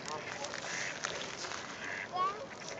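Scattered duck quacks over a noisy outdoor background, with a faint voice in the mix and one louder call near the end.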